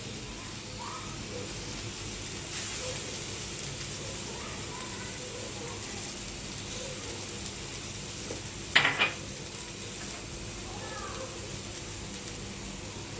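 Chopped tomato sizzling in a pan with mackerel, a steady broad frying hiss that runs throughout, with a brief clatter of a utensil midway.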